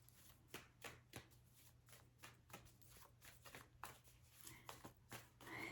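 Tarot cards being shuffled in a quiet room, with a series of crisp, separate riffling snaps and slides at irregular intervals, close and clear, ending in a louder rustle.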